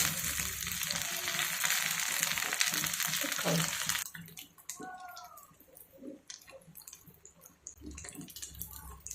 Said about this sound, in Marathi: आपण हे क्रिस्पी होईपर्यंत तळून घेणार आहोत